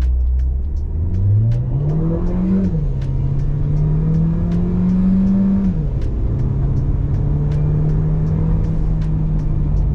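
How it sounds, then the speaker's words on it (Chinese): A Mercedes-Benz GLB200 with a 1.3-litre engine pulls away from a standstill in normal mode, its engine rising in pitch through two gear changes with a loud, steady cabin drone and faint ticking clicks. "现在我就试一试这个车子完全停止的状态。 OK， 然后普通模式加速"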